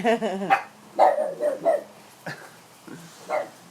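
Household dogs bark and yip indoors in a burst of several barks, then fainter scattered barks, with speech mixed in at times.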